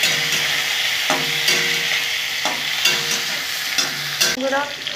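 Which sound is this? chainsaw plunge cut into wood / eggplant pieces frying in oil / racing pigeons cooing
eggplant pieces frying in oil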